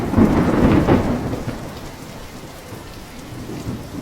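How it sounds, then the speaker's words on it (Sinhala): Heavy rain pours down steadily while a deep rumble of thunder rolls loudly at the start and then fades into the constant downpour. No voices are heard. "මහත්තයාගේ කුඩේට ඔරොත්තු දෙන්නේ නැහැ මේ වැස්ස."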